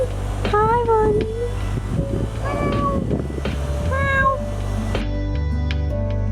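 A cat meows repeatedly up close, several loud, rising-and-falling meows in quick succession over a low fan-like hum, with a brief voice in between.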